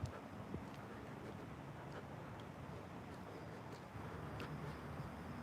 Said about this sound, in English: the truck sound is going off again right here